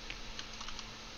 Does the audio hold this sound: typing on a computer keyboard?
yes